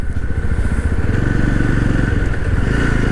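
A Yezdi Roadster motorcycle engine thrums steadily and close up while riding through slow traffic, a constant mid-pitched drone with no talking over it.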